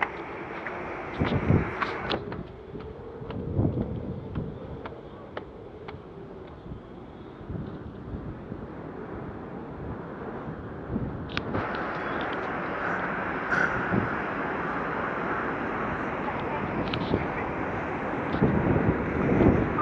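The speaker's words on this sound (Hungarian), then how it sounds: "Egy kicsit jobban hallani, ahogy a szél fúj." Steady wind roars and buffets against the microphone throughout, a continuous rushing noise that swells louder toward the end.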